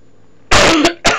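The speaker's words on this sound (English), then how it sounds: "So I'm fighting a cough" A single close, loud cough made of two quick bursts, followed by a second short cough a moment later, with a quiet room behind it.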